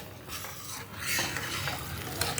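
A spoon stirs cardamom powder into sugar syrup in a pan for a sweet, a continuous scraping, swishing stir over a faint sizzle, close and fairly quiet with no talking.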